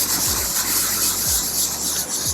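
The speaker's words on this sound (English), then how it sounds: "We're going to do just a quick, just to get any of the burrs and stuff off of the paint here." Quick light wet sanding of painted surface with sandpaper to knock off burrs, a steady close rasping rub with brief swishing strokes.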